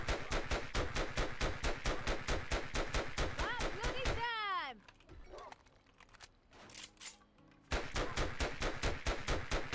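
Rapid, loud automatic gunfire in the 7 Days To Die video game, aimed at a direwolf, bursts steadily, breaks off into a brief lull with scattered game sounds, then resumes in another sustained string of shots.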